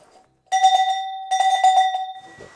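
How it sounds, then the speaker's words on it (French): A bell rung by hand at the door of a painting exhibition in a village gives two bright, sustained ringing bursts with clear tonal overtones, fairly loud and close, followed by faint rustling. "Sonnez la cloche, tiens."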